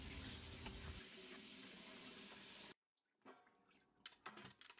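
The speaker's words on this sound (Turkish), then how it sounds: "Su yardımıyla temiz olana kadar yıkıyorum." Raw anchovies are rinsed under running tap water in a kitchen sink, with a steady, loud gush that stops abruptly, followed by quieter splashes and handling of the wet fish.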